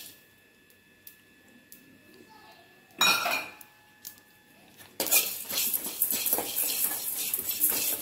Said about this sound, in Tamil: ட்ரையாக ஃப்ரை பண்ணி எடுத்துக்கலாம் ஆயில் கொஞ்சம் கூட ஊற்ற வேண்டாம்